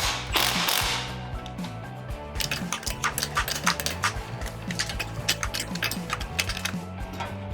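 A ratchet wrench clicks rapidly in bursts while bolting a shifter bracket onto the transmission of a Kawasaki Mule 2510 being repowered with a Briggs 23 HP engine, close up, over a steady engine-like hum.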